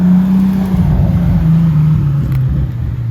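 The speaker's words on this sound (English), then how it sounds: "Wow, we got a Pagani Huayra." Pagani Huayra supercar rolling in to park, a deep, loud engine rumble at low speed that burbles steadily throughout with no talking.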